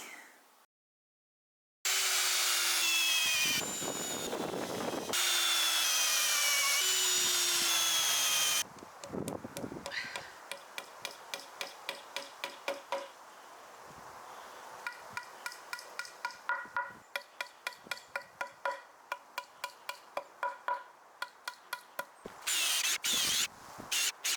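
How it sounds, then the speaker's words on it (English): Repeated hammer blows drive shiitake mycelium wooden dowels into a log in a steady rhythm, preceded by bursts of a whining power tool and scraping sounds, all close by. "right now I am hammering down the last dowels from the Shiitake mycelium"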